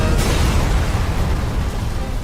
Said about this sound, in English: Moments later, an explosion knocked Hero to the ground.